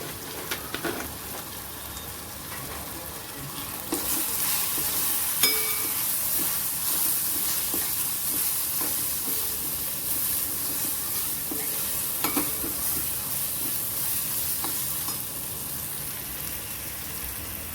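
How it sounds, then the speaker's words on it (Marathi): Onion and tomato masala sautéed in a pan gives off a continuous loud, close sizzle and frying hiss, with occasional spoon scrapes and stirring clatter over the steady crackle. "आता आपला मस्त कांदा टोमॅटो वगैरे सगळं असं परतून झालेलं आहे"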